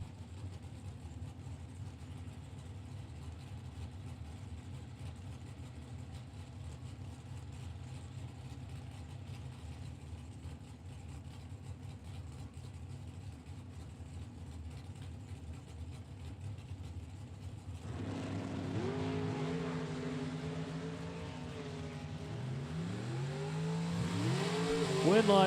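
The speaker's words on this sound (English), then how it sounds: "Bob Rossello, Jason Hemmerline. Bring their Camaros up to the starting line." Camaro drag cars, a 1969 Camaro and a 2013 Camaro, idle and rumble at the starting line of a drag strip, a steady low engine drone swelling into louder revving burbles near the end.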